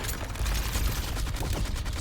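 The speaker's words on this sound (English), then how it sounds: "The passenger railroad car buckles inward under ruthless gunfire." Rapid gunfire striking a passenger railroad car in the Love and Deepspace game, a dense continuous burst of sharp cracks and impacts over a heavy low rumble, loud and close throughout.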